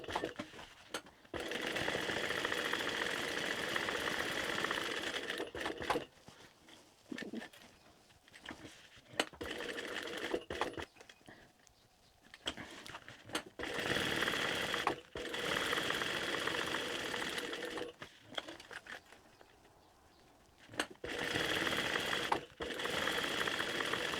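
Sewing machine stitching a tote bag, running in long steady whirring stretches broken by pauses and a few sharp clicks, close and loud with no talk.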